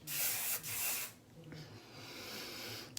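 Hairspray can spraying in two close, hissing bursts, the second cut briefly short, followed by quieter rustling and a faint sniff-like sound.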